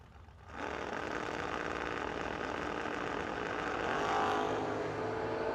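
Drag racing cars, including a Mopar, roar down a strip as a steady loud engine drone, starting abruptly after a quiet moment and swelling slightly toward the end, with no talk.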